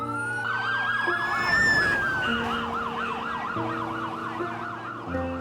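Many emergency vehicle sirens wail at once in New York as vehicles head toward the World Trade Center, with overlapping rising and falling tones and steady horn-like blares forming a loud, continuous, layered chorus.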